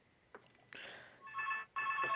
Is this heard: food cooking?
no